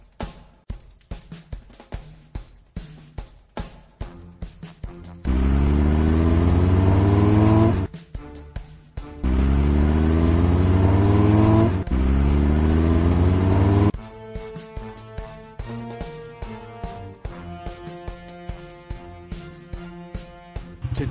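Fire truck engines rev in a kids' video game, with short clicky game sounds followed by two long, loud, rising engine roars and then a busy stretch of rhythmic mechanical tapping.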